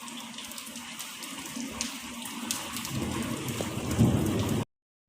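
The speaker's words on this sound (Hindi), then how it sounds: "तो वहाँ से बारिश आ रही थी, इतना प्यारा मंज़र लग रहा था।" Rain falling outside a room beside a narrow lane, a steady hiss of drops and splashes that gradually swells louder before cutting off abruptly, with no voices.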